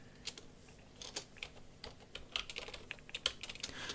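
Quick, faint clicking of keys on a computer keyboard while entering a spreadsheet column, with irregular bursts of keystrokes and no talking.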